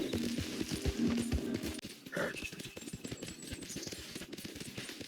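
A horse ridden across the open map in Red Dead Redemption 2, its hooves clip-clopping in a steady galloping rhythm, close and fairly loud over a bed of ambient noise, with a brief whinny-like tone partway through.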